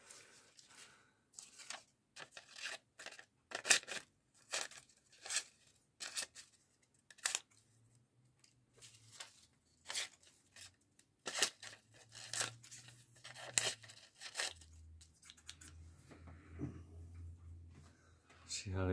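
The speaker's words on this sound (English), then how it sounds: "Taking this flannel, rolling it up like 3 times, presses right through it." Repeated crisp snips of shears cutting through flannel fabric rolled up in three layers, irregularly spaced, with a person talking quietly between and over the cuts.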